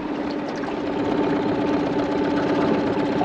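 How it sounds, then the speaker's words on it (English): A fishing boat engine idling while trolling, a steady close mid-low throb with a regular rhythmic pulse that holds evenly throughout. "trolling along, motoring gear, just idling"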